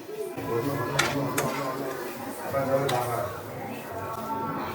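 Raw mango laddu mixture being stirred in a pan, soft scraping and faint sizzling under a person talking throughout.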